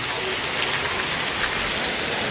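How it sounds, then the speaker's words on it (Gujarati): Heavy rain pours with wind as a dense, unbroken roar of drops hitting surfaces, loud and steady throughout with no voices. "એવો ધમ ધોકાર વરસાદ પડે"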